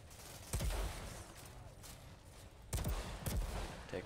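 Gunfire from the video game Outriders: a few sharp, loud bursts of shots, one near the start and a tight pair later, over a steady rumbling game background.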